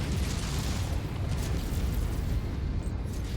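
A vehicle blows up in MechWarrior 5: Mercenaries as a dense, sustained roar of explosion and rumbling debris. It fills the whole stretch at a steady, loud level with no talk.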